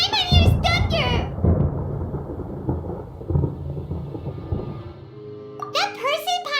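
Thunder rumbling in Genshin Impact, a loud, long roll that slowly fades, with character voices speaking just before and just after it.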